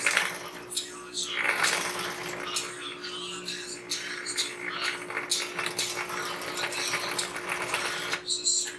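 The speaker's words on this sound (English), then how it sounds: "Now I'm just going to sew to that my first corner where I started and finish the stitch." A sewing machine stitches a drawstring pouch, its needle whirring in fast rhythmic bursts with short stops, under a steady faint hum; a person talks over it.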